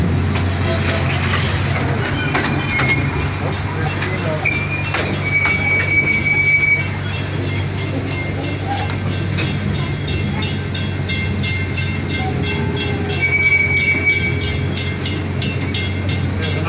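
A passenger train at Gatorland rumbles steadily along the rails, with metallic squeals, clicks and clanks over continuous loud rolling noise and some voices in the background.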